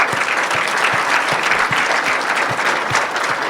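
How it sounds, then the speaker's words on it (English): Sustained applause from an audience at a UN conference event, steady dense clapping throughout with no talk over it. "we'll applaud you too for standing more than 3 hours"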